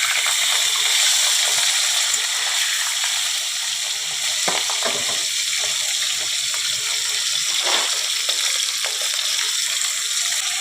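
Pieces of rohu fish frying in hot oil in a pan, a loud dense continuous sizzle close up with a few brief louder crackles and spatters, no talk.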